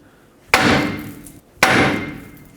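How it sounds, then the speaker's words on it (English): Two sharp, loud metallic hammer blows on a 2008-2010 Ford F-250 steering knuckle, freeing the tie rod, about a second apart, each ringing briefly before fading. "Grab a hammer, hit the knuckle right here."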